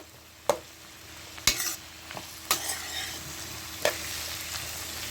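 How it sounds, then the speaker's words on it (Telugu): Capsicum, tomato and onion being stirred in a hot pan for red sauce pasta, with a soft continuous sizzle broken by a few sharp spoon scrapes and knocks against the pan, close by and without talk. "కొంచెం ఇలా కలుపుకుంటూ ఉండాలి అంతే"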